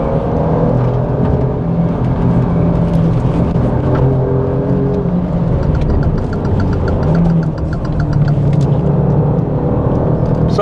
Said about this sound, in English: let you enjoy the rest of this lap with a little bit of sound from that glorious V6